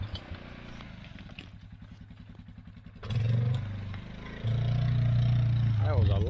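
A four-wheeler ATV engine runs while winching a harvested deer across a ditch during a whitetail hunt, idling low then rising louder in two steady surges, with someone talking early on.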